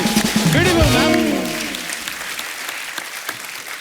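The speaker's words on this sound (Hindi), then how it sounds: "ये अर्चना जी के लिए जोरदार तालियां होनी चाहिए।" A TV comedy show studio audience bursts into loud applause for a guest, with cheering voices on top at first, then the clapping fades to a softer patter.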